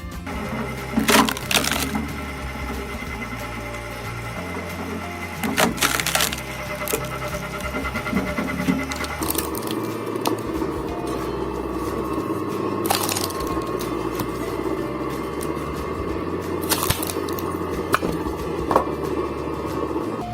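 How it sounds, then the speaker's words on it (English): A heavy-duty hydraulic log splitter with a welded steel frame drives its ram through a knotty log, giving sharp wooden cracks and splintering bursts over a constant low machine drone. "The operator places a log on the splitting bed, engages the ram, and watches as even stubborn knots give way."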